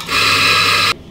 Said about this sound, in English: and grinding.